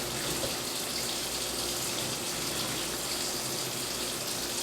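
Tap water gushes steadily into a stew pot for a creamy turkey stew, a continuous broadband rush with no pauses and no talking.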